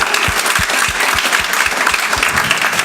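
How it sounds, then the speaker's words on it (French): An audience applauds a technical crew after a show, steady dense clapping at fairly loud level with a few distinct sharp claps standing out near the front. "on peut les applaudir, ils ont fait un job de malade"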